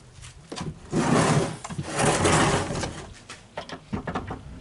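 An in-bed swing case storage box on a Ford Explorer Sport Trac is swung open, producing a close, sustained rubbing and sliding scrape in two long sweeps, followed by a few lighter knocks and clunks.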